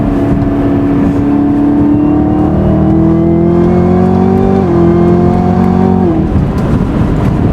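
A 2020 Chevrolet Camaro ZL1 1LE accelerates at half throttle, its loud, close engine droning and rising steadily in pitch through two gear changes, heard from inside the car.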